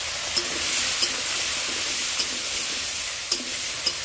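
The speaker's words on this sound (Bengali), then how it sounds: "সোয়াবিন আলু তো ভাজতে হয়" Soybean chunks and potatoes seasoned with turmeric and salt sizzle in a pan with a steady, close hiss and occasional soft clicks as they are stirred.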